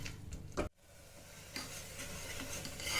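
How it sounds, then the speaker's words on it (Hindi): A dal and jaggery mixture for puran poli is stirred in a pan on a gas stove, giving soft scraping strokes over a faint sizzle, with a brief pause before the stirring resumes. "तो हमें सूखने तक गैस पे इसको चलाते हुए सुखा लेना है"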